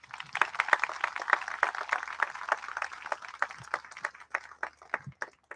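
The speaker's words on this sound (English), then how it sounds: "let's give them a big round of applause" Audience applause at a naturalization ceremony for new citizens, dense overlapping claps at moderate distance, steady for about five seconds before thinning out toward the end.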